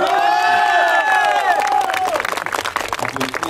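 A crowd applauds and cheers at a race podium ceremony in Burgas, with clapping and whoops filling the air while an announcer's voice rings over it, the applause growing denser toward the end.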